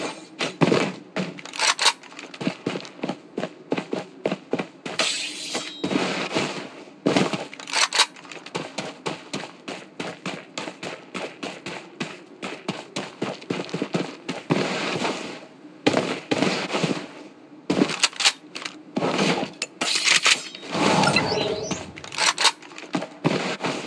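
Dense, rapid gunfire in the mobile shooter Blood Strike, with bursts of sharp automatic shots crackling almost continuously for the whole stretch, loud and close, occasional brief gaps between volleys.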